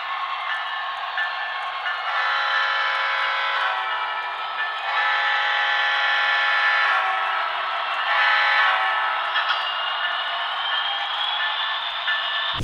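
A Broadway Limited N scale model locomotive runs after its electrical contacts were cleaned, giving a steady close mechanical whine with a sustained horn-like tone layered over it for several seconds, with no talk.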